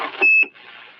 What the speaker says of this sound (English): I didn't know you had a Roger beep.